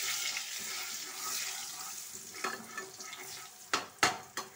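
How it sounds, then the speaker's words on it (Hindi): Spices with coriander powder and garam masala stirred in a pan, a soft continuous scraping and light sizzle followed by a few sharper clinks of the spoon against the pan near the end, no talking. "अब हम हमारे मसालों को चला लेते हैं।"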